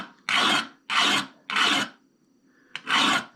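Scissor blade clamped in place and sharpened with 180 grit abrasive: four steady rasping strokes, each about half a second long, with short pauses between them, close and fairly loud and free of talk.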